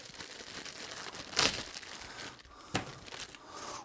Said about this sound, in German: Die werde ich jetzt hier nur einfach aus der Tüte rausnehmen,